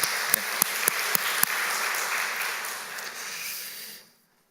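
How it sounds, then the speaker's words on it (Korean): A church congregation bursts into a dense, sustained round of applause with a few sharper claps standing out, fading away after about four seconds into quiet. "우리 경례의 박수 한번 하겠습니다."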